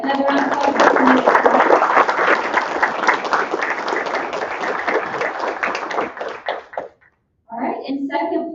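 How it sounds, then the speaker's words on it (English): Crowd applause at a pitch competition in Salina, Kansas, loud sustained clapping with a few voices mixed in, breaking off briefly before a short burst of clapping and talk resumes. "another round of applause"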